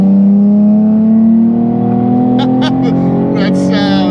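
A 2016 Nissan 370Z Nismo with its VQ engine pulls hard up a highway on-ramp, loud close engine note with rising tones, a voice talking briefly over it near the end.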